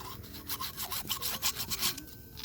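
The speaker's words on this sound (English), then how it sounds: "We're also gonna be cleaning this piece right here. This is where the gasket goes on the outside. We're gonna be using this type of sandpaper." Sandpaper scrubbing by hand across the gasket surface of a semi truck axle on a Freightliner Cascadia or Kenworth, a steady run of close, raspy back-and-forth strokes with no talk.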